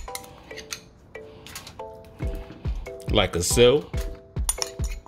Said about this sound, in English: we're gonna spoon the rest of it on top